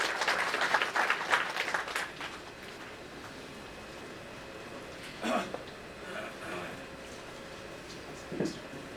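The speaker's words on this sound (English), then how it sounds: "Please give a huge round of applause." An audience applauds at a Union Budget 2019 discussion event, a burst of clapping for about two seconds that then fades into sparse, faint claps and room noise.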